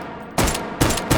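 A Mauser C96 carbine fires in the H3VR virtual reality game, three loud, punchy pistol-calibre shots spaced unevenly across a second, with no voices.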